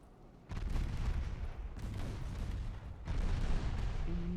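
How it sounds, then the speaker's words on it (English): Rapid 3-inch secondary guns blaze away in Ultimate Admiral Dreadnoughts, a naval warfare game, creating a churning wall of overlapping explosions that surges in sudden loud bursts over a low rumble, with no speech. "There's so many explosion sounds all at once."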